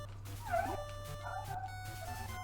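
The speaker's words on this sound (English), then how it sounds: "Dude, are you hearing my squeaky-ass dogs?" Squeaky dogs yip and whimper in high, thin cries coming through an open window, fairly faint and distant over a steady low hum.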